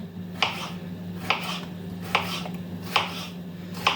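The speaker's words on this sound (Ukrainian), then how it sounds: "Чомусь подобається різати якось так по діагоналі, бачите, щоб ось такі шматочки були." A knife slices a cucumber diagonally on a cutting board, five evenly spaced, crisp chops roughly a second apart, close and distinct over a low steady background hum.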